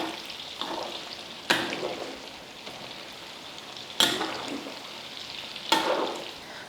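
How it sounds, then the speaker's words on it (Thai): Pork belly deep frying in oil for Thai salt-fried pork, a steady moderate bubbling sizzle with three sharp crackling bursts as the pieces are turned or stirred, no voices present. "เราจะทอดจนหมูสุกดีเลยนะคะ"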